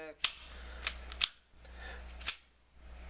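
A Ruger LCP pistol being handled for a magazine and safety check gives a few sharp metallic clicks and snaps, close and crisp, separated by short pauses in a quiet room.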